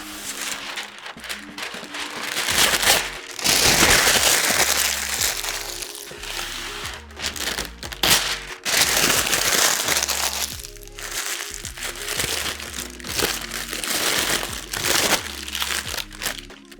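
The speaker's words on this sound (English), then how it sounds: "We are gonna add parchment paper to both of these." Parchment paper is crumpled and crinkled by hand for lining a pie crust, making continuous close, crackly rustling with uneven bursts throughout.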